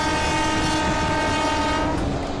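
Mumbai local train on the Churchgate–Goregaon slow line sounds a sustained, loud horn for about two seconds over the steady rumble of the rolling carriages.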